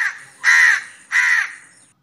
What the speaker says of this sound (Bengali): কাক ডাকে কা কা